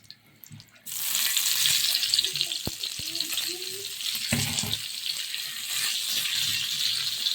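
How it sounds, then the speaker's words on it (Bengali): Beaten quail eggs drop into hot oil and burst into a loud, sustained sizzle after a brief quiet moment, with occasional spoon clinks and scrapes as the frying continues steadily. "তেলটা গরম হয়ে গেছে। এখন আমরা মাখানো ডিমগুলো দিয়ে দিব।"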